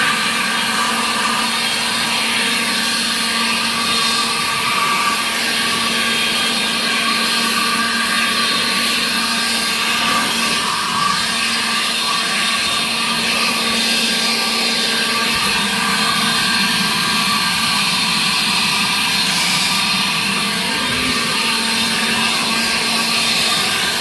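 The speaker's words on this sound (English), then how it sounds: "Turn the blower on." A blower runs with a constant loud whine and rush of air, clearing spider webs out of a 1963 Chevy II. It holds steady for the whole stretch, with a brief change in pitch partway through and no talking.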